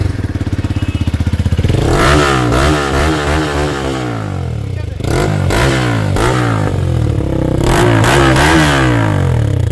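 A TVS Raider 125 motorcycle fitted with an Akrapovic-style exhaust and bend pipe revs hard up close, with repeated rising and falling engine sweeps, a brief drop to idle midway, then more loud throttle blips.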